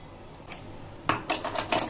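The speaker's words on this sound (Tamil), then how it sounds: "இப்போ இதை வச்சு நம்ம பாதி ஷீட்டாக கட் பண்ணி எடுத்துக்கலாம்" A thin samosa pastry sheet is cut in half, with a few short, crisp snips close by, a lone cut first and then a quick cluster, quiet and with no talking.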